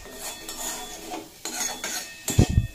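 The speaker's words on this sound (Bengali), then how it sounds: "এরপর এই সমস্ত উপকরণ খুব ভালোভাবে মিশিয়ে বেশ কিছুক্ষণ নাড়াচাড়া করতে হবে" A spoon scraping and clanking in a pan while potato, eggplant and poppy seed paste are stirred with punko greens, several quick metallic strokes, close and fairly loud, ending in a heavier clatter.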